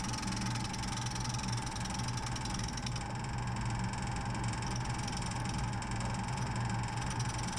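A wood lathe spins an out-of-balance yew bowl at about 1400 RPM, giving a steady, dense mechanical hum and rattle with a constant pitched whine, continuous and fairly faint, with no voices.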